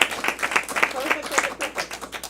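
An audience at a live improv-style show applauding themselves: a short burst of scattered clapping from a modest crowd, moderately loud, with a voice talking over it.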